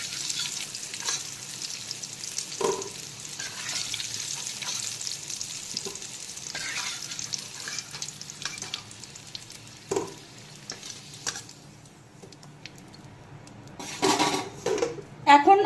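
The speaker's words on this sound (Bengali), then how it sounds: "আলুগুলো কিন্তু এখন খুব ভালো করে ভেজে নিয়েছি।" Potatoes fry in a pan of hot oil, a steady close sizzle and bubbling with occasional clinks of a spatula against the pan and a few brief spoken words.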